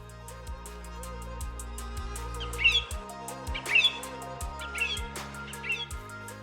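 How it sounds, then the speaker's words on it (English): Small birds chirp and tweet intermittently over a steady background hum with regular faint clicks, the calls light and moderately distant. "The birds in my garden are busy coming and going with all sorts of nesting material."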